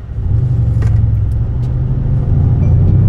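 A Mercedes C63S AMG pulls away from a standstill, its engine and exhaust a loud, close, deep steady rumble that swells slightly toward the end, with no talking.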